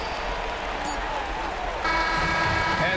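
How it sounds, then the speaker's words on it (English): A virtual arena crowd in NBA 2K25 applauds and cheers steadily as a basketball game winds down, a dense even roar that grows slightly louder partway through, with a commentator's voice over it. "the crowd loving every second of it"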